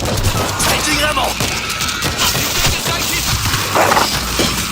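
A .50 cal machine gun firing in the video game World War Z, dense rapid bursts amid crashing game noise, loud and continuous.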